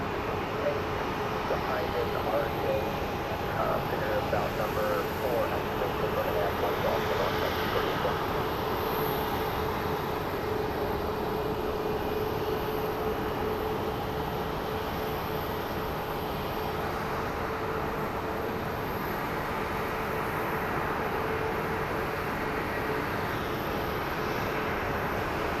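An airliner rumbles on the runway at Phoenix Sky Harbor, a broad continuous engine roar that stays fairly loud and steady throughout, with speech likely present in the background.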